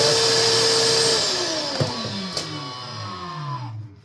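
A vacuum cleaner sucks dust out of a roughly 20-year-old Yamaha home theater receiver, a loud close whine that winds down in pitch as the motor switches off, with a couple of small knocks along the way.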